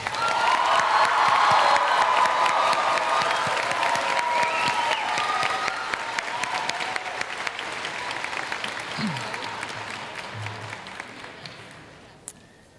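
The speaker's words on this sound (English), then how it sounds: "So if we can give him a round of applause." A large audience at a high school graduation ceremony applauds loudly, with scattered cheers and whoops, the clapping fading gradually toward the end.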